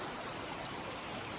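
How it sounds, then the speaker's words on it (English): A stream flows beside the Appalachian Trail, giving a steady, soft rushing wash of water that stays even and continuous with no voices. "You can see it's a beautiful stream down there as well."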